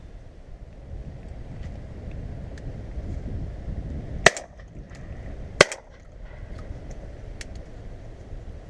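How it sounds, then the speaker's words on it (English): Two sharp shotgun blasts, about a second apart, fired at a pigeon flying in over decoys, cracking out loud and close over steady outdoor wind noise. "Dreadful first shot"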